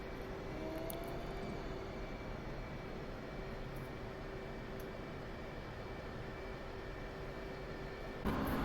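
Steady jet engine roar from a flight simulator game during a one-versus-one dogfight against a MiG-29, a continuous, even drone with no talking.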